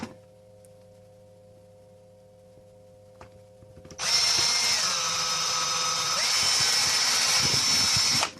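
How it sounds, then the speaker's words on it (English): After a few quiet seconds, a power drill starts up and grinds through the plastic of a game controller shell, a loud sustained whirring bite with slight pitch shifts that continues to the end. "take your drill, and on the angle of the curvature"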